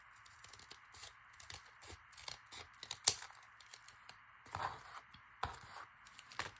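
Scissors snip through paper envelopes in a string of soft, close cuts and crisp rustles, with one sharper slice, over a faint steady background hum.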